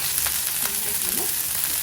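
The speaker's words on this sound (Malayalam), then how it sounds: "നെയ്യിൽ കൊച്ചുള്ളി ഇങ്ങനെ മൂത്ത് വരുമ്പോൾ" Shallots frying in hot ghee in a pan give off a steady, close sizzle with soft crackles throughout, and no one speaks.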